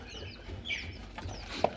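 Young DOC-age chicks give a few soft, high peeps and clucks at irregular intervals, with one sharper call near the end, over a low steady hum and no speech.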